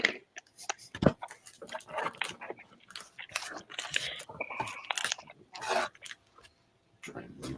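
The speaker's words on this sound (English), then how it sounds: "Try and mute this while we crinkle and crunch." Crunchy snacks being chewed and bitten in bursts, with the odd crinkle of a packet, close up and moderately loud, alongside brief talk and laughter at a live podcast recording.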